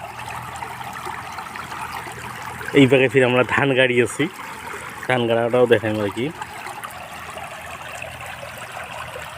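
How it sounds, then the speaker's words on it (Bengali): Floodwater runs and gurgles steadily across village rice paddies, a continuous rushing wash that carries on beneath someone speaking in two bursts. "কল কল কল করি পানি নামিয়ে আছে"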